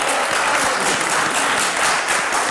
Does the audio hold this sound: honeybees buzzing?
no